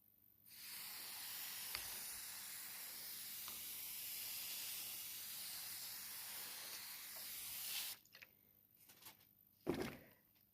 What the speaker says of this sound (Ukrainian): Тепер бризкаємо водичкою.